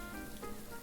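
Pouring rain in a video game makes a steady, dense hiss that fills the brief moment with no pauses.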